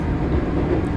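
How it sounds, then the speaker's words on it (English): Onboard rumble of a train moving through Osaka, Japan, a steady low-pitched roll with faint rail clatter filling the cabin, continuous and fairly loud with no voices. "And here's me on a train."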